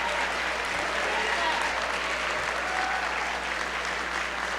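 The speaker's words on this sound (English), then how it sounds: "Let's give our students a round of applause." An audience at a school district State of the District event claps for the students in sustained, dense applause that fills the room evenly from start to finish, with a voice faintly mixed in.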